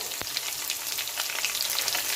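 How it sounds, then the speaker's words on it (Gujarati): Chopped chillies sauté in oil on medium heat for a corn chevdo, a brief close hiss of frying with one sharp knock near the start. "હવે આપણે મરચાં સાંતળી લઈએ અને અહીંયા આગળ મેં બે મોટી ચમચી તલ લીધા છે"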